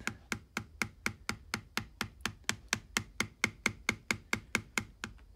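A mallet taps a metal bevelling tool on leather during hand tooling: about twenty light, evenly spaced strikes in a steady quick rhythm, close and crisp, with no talking.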